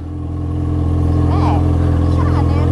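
A motorcycle engine runs steadily up close, holding a loud continuous rumble with a faint rising whine partway through.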